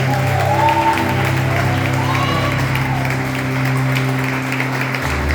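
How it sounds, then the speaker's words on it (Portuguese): Church congregation clapping in a sustained round of applause at a revival gathering, a dense even patter of many hands heard across the room, with some voices mixed in. "aplauda o Senhor uma vez aí"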